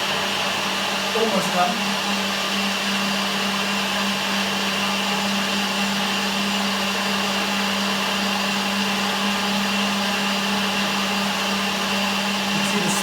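A blender whirs at a steady high speed for a long, continuous stretch, mixing a banana and almond butter protein smoothie with oats and spices, loud and close, with a few brief words spoken over it.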